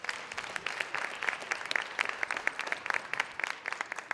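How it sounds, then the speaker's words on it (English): Audience applause fills a Kwanzaa keynote event at UConn, a steady patter of many hands clapping close by with only faint voices underneath. "So please give you all a round of applause for tonight."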